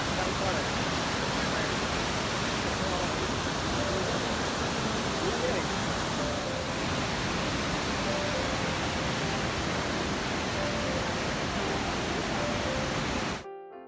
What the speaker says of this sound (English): The gushing sound of River Parvati in the backdrop is so overpowering that you feel as if you belong there.